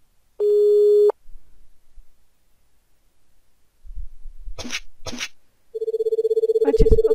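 Telephone in an RPG video game giving two electronic ring tones: a steady tone near the start, then a longer pulsing ring toward the end, with faint game noises between.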